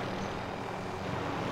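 Video game helicopter flying with a steady, dense rotor and engine drone, loud and continuous throughout, no talk over it.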